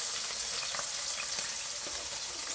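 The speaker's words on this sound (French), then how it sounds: "on va faire revenir les légumes avec les lardons" Vegetables and bacon lardons sizzle steadily in a frying pan, a dense continuous hiss with small crackles and pops scattered throughout, close and even in level with no talking.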